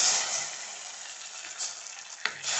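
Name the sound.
hot spice tempering poured into mango rasam, sizzling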